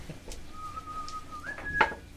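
A person whistles to call a horse, a sustained single-pitch whistle that steps up to a higher tone with a short bright burst at the end, fairly close against quiet background.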